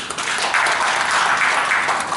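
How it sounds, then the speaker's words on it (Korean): An audience applauds at a newspaper regional headquarters New Year reception held in a wedding hall, steady clapping filling the room for a couple of seconds. "환영과 격려의 부탁 좀 전하는 박수 좀 부탁드리겠습니다"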